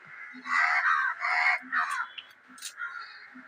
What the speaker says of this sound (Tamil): மற்ற காக்காலாம் கத்திட்டே இருக்கு.